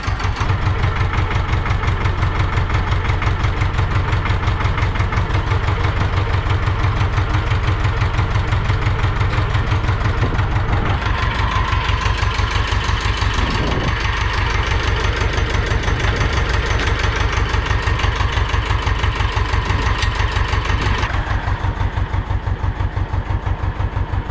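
An Ursus C-330 or C-360 tractor engine idles loudly and steadily with a rough, knocking rhythm that holds throughout, its tone shifting slightly partway through.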